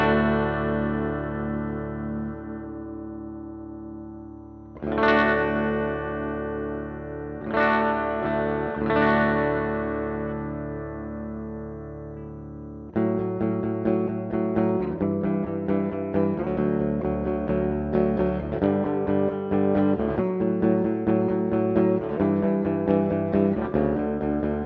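Squier Paranormal Series Super Sonic electric guitar played on the bridge pickup through effects, with ringing chords and swelling accents giving way to a denser, driven rhythmic passage, loud and close with no talking.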